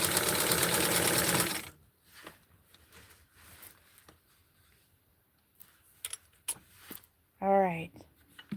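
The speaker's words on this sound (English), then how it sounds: "I am sewing so close to the edge." A sewing machine stitches close to the edge of a T-shirt in a fast, loud, even burst that stops after under two seconds. Faint handling clicks follow, then a short spoken exclamation.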